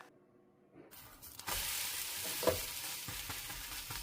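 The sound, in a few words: cabbage sautéing in butter in a pan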